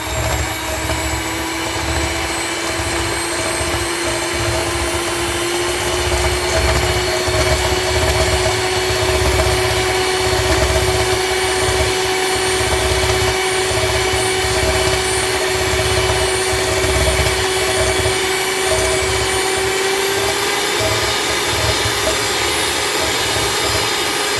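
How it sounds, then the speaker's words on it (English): An electric mixer creams oatmeal raisin cookie dough, giving a steady, unbroken motor whine with a low hum that runs for over twenty seconds with no talking. "So I'm gonna use my mixer to help me with the mixing to get it nice and creamy."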